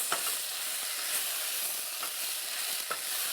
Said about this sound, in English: Mix that in while stirring the rice.